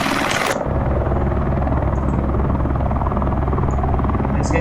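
Inside a Eurocopter AS350 Ecureuil in a flight simulator game, the helicopter engine and rotor make a loud, steady, throbbing drone. A brief hiss at the start gives way to the constant idle hum.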